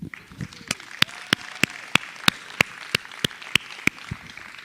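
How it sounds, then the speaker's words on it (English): Applause for an aviation captain at a general aviation forum, heard as sharp, evenly spaced claps under a hall's reverberant hum, one steady clapper standing out rather than a full crowd. "Please give me the biggest round of applause for Captain Paul Klaus"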